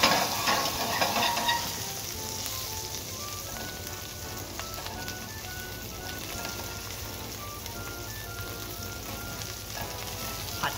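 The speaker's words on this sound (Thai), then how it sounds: "ผัดแค่แป๊บเดียวนะครับหอมก็เริ่มที่จะสุกแล้วนะครับ" Onions sauté in olive oil and chicken fat for braised chicken chasseur, giving a steady, close sizzle and crackle that is loudest at first and then settles, with soft melodic music underneath.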